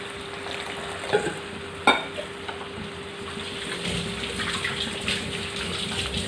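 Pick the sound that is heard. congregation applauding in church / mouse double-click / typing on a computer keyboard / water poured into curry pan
water poured into curry pan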